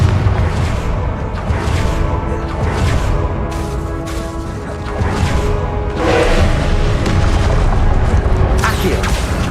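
Confringo spell blasts in Hogwarts Legacy, repeated loud booming explosions that rumble over a busy game soundscape, with a voice calling out at moments among the bursts.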